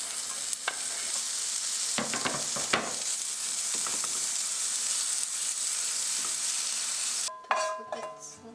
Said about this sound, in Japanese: スモークしてから3日寝かせたベーコン、カリッと炒めますよ。